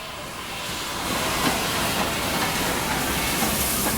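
A steam locomotive rolls slowly into Spencer Street Station in Melbourne during Aus Steam 88, with a broad continuous hiss of steam and faint rail clatter, steady and fairly loud, no voices.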